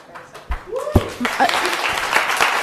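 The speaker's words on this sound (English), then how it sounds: "Hold on to the clapping" Scattered clapping spreads into steady applause from an audience at a public meeting, with voices calling out over it.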